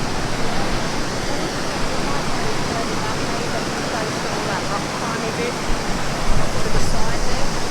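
Loud, steady roar of a waterfall pouring into a deep swimming hole at Kenilworth on the Sunshine Coast, a dense continuous rush heard close up with little variation.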